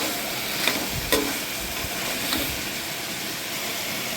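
Mutton fry being mixed in a pan gives a steady sizzling hiss with a few sharp scrape and clink accents early on, close and fairly even.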